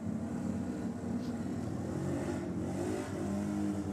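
A VH Commodore drag car running nitrous roars steadily and loudly at Sydney Dragway, its engine drone filling the whole stretch as a continuous, close, heavy rumble.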